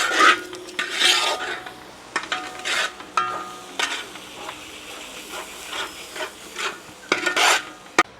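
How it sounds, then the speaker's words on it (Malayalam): A spoon scrapes and stirs spice powder in a hot pan for a fried rice chicken gravy, giving repeated close rasping strokes over a faint sizzle, with no talking. "ആ പൊടിയുടെ പച്ചമണമൊക്കെ മാറുന്ന പോലെ ഒന്ന് നല്ല പോലെ വഴറ്റിയെടുക്കാം നമുക്ക്"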